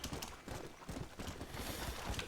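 Horse hooves clopping in Red Dead Redemption: Undead Nightmare, a steady stream of quick, fairly loud beats running continuously under a dense game soundscape.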